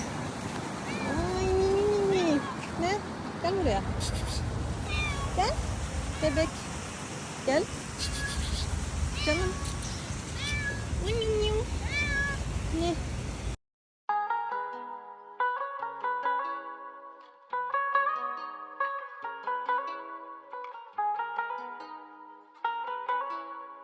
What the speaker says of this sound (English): I saw this little cute cat, but it was a little bit afraid.